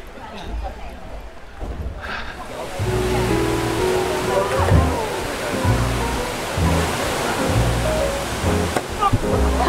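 Kuang Si waterfall near Luang Prabang, Laos, a steady broadband rush of falling water heard nearby, with people talking over it throughout.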